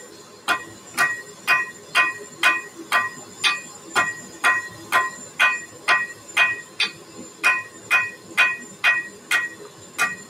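Steady rhythmic hammer blows ring out at the forge while cable damascus is drawn out, roughly two strikes per second in a regular pattern, sharp metallic impacts with no talking.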